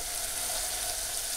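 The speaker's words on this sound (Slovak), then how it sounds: "Pozor na to, aby ste sa nepopálili, lebo začne to trošku syčať." Butter added to hot caramel in a pan hisses with a close, steady, bright sizzle that holds evenly from start to finish.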